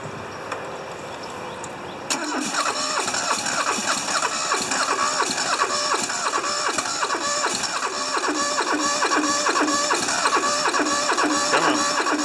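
A smoky diesel engine with glow plugs cranks and catches on a cold start, a sudden loud burst at two seconds settling into a steady, close, rapidly pulsing chug that runs loud through to the end.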